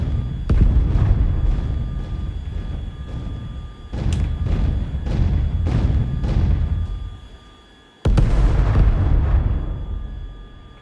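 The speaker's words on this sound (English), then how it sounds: "dumb bombs to take out these tanks." Dumb bombs bursting on tanks in the Tiny Combat Arena flight game: a string of loud, rumbling explosions at irregular intervals, each with a long decaying roar, and a final heavy blast after a brief lull.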